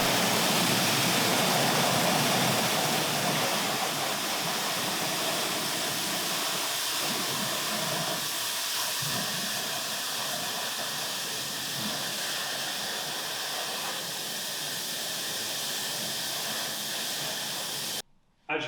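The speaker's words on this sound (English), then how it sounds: "So we're going to rinse all the suds down and all the K.Os on there down" Water sprays steadily to rinse suds of K.O non-acidic wheel cleaner off a car wheel, a loud continuous hiss of running water that cuts off abruptly near the end.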